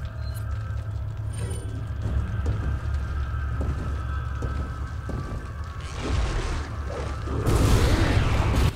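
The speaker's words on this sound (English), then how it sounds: "Throw a grenade at him then" A grenade explodes in the video game Resident Evil 4, a loud, broad blast that erupts near the end over a continuous low rumbling game background.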